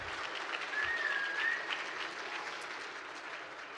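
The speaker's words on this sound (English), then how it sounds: "Give her a round of applause," Steady audience applause at a Landmarks Illinois Preservation Forward program, dense clapping from many hands sustained at an even level throughout, with no talk over it.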